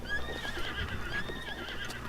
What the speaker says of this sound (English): Better not be your horse laughing at me.